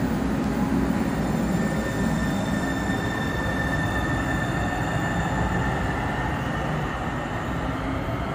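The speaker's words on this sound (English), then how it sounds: "Train now arriving." A Link light rail train arriving at SeaTac Airport station rumbles steadily nearby, its wheels and motors humming with faint high-pitched whines and squeals over a constant roar.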